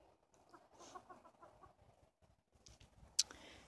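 Soft, scattered clucking from a few chickens, fairly quiet and close, with a brief sharper squawk near the end.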